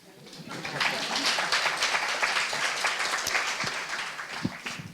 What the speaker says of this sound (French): on aurait dû t'applaudir